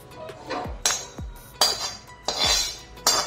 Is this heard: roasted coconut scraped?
yes